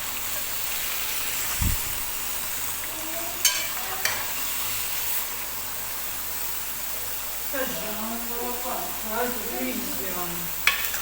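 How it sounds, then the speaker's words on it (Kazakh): Kuyrdak meat frying in its own fat with no water added, a steady soft sizzle running throughout with a few clinks and stirring noises and brief faint voice sounds. "Ешқандай су қоспай осы майға қуырамыз."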